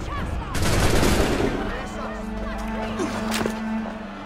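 Musket volley in the video game Assassin's Creed III: a loud ragged crackle of massed shots near the start, then fading echoes and a sustained hum, with voices heard around it.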